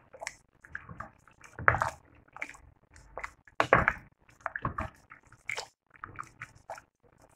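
Pasta and vegetables stirred together in water in a pot, giving close, irregular wet squishing and sloshing bursts with short pauses between them.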